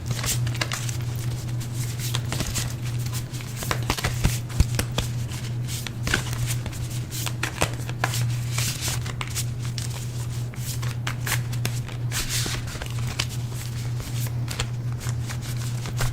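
Tarot cards are shuffled continuously and briskly, with rapid papery riffling and flicking close up over a steady low hum, and no talking.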